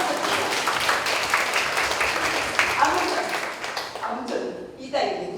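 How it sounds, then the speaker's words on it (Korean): Church audience applauding after the pastor calls for a round of clapping, a steady dense patter for several seconds that thins out near the end as a voice begins speaking over it. "박수 한번"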